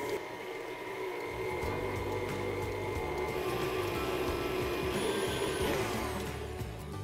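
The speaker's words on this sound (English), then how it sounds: "My butter and sugar have been mixing for about 3 minutes, and they're getting fluffier" An electric mixer whirs steadily as it beats butter, sugar and egg in a bowl, a continuous motor drone with rattling of the beaters, close and even throughout with no talk.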